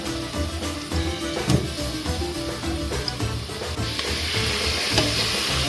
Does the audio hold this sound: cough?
no